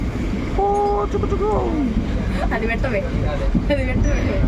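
The steady rumble and rattle of a moving train fills the space, with voices chattering over it nearby.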